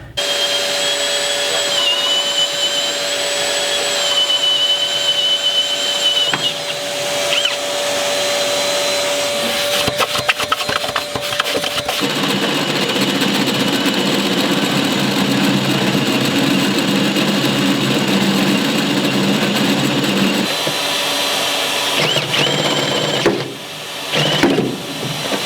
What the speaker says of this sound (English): I'm really struggling to get enough pressure onto the drill